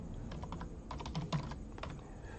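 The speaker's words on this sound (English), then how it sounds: "Typing in the password." Rapid, irregular clicking of keys on a computer keyboard as a password is typed, a close, dry clatter of short bursts with brief pauses and no talking.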